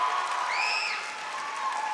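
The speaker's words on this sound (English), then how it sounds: "Give her a round of applause." A crowd at a high school choir spring showcase gives a faint, distant round of applause, a soft continuous wash with a thin whistle-like tone rising briefly in the middle.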